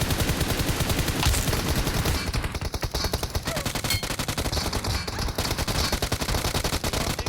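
Rapid automatic gunfire rattles in PUBG on the Erangel map, fired at an enemy squad's vehicle; sustained loud bursts of closely spaced shots run almost continuously, with brief pauses between strings of rounds.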